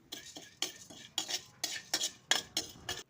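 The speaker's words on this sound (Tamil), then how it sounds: "இப்போ கிராம்பை நல்லா வறுத்துக்குவோம்." Whole cloves dry-roasting in a pan for biryani masala, stirred in a quick series of crisp scraping, rattling strokes against the metal, close and fairly loud in an irregular rhythm, with only a faint sizzle beneath and no talking.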